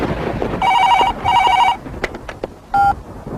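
A telephone rings in two loud electronic bursts, followed by a shorter tone and a few clicks, with no voices over it.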